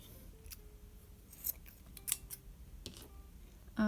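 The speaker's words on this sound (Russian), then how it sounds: "Итак, ниточку может, получается, уже отрезать." Scissors snip through thread during a crochet basket project, a few sharp, quiet clicks and cuts spread across a near-silent room.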